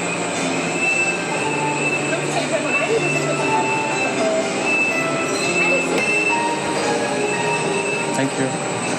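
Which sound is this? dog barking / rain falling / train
train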